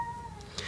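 A pet cat lets out a short, clear meow close to the microphone, a single brief call with a faint steady tone in the background.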